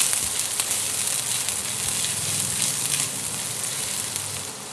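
A medium onion goes into a hot pan with garlic, giving a steady, close hiss of frying that holds evenly throughout with no voices.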